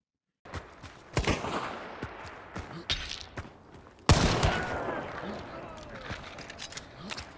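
Gunfire in the video game Hunt: Showdown, several sharp shots at irregular intervals with a louder blast midway and echoing tails, heard alongside talk.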